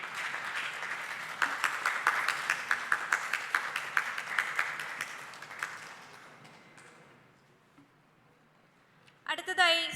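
Audience applause at a nature photography club's annual day in a museum hall, steady clapping for several seconds that fades out, followed by a brief burst of clapping near the end.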